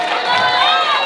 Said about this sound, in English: Can we get a round of applause for Jocelyn?